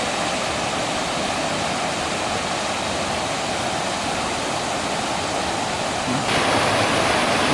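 Water rushes down a rocky creek, tumbling over rocks in a loud, continuous roar, close by and unbroken, growing slightly louder near the end.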